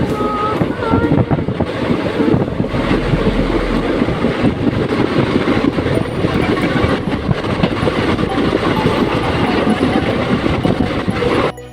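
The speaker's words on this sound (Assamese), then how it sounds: "ধুনীয়া গছ গছনিৰ মাজেদি ট্ৰেইনখন গৈ আছে" Passenger train travelling between Harmuti and Jonai in rain, a steady loud rumble of wheels and carriage noise with wind buffeting the microphone throughout, no talking.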